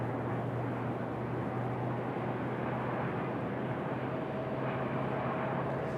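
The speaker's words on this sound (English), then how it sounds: "So there we go, our LAX flight touching down." A steady distant roar from an airliner on landing at RDU, broad and continuous without a distinct touchdown thump.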